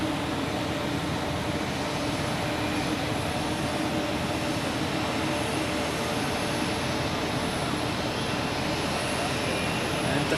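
Airbus A330 jet lining up on runway 16 at Zurich Airport, a steady broadband engine roar holding at even loudness throughout, with no talk.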